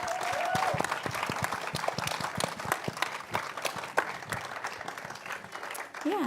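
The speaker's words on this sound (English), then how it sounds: "If you guys want to give them a round of applause." An audience gives a round of applause after an animated-shorts panel of art school students, a dense patter of many hands clapping at moderate distance, with voices briefly cutting in near the end.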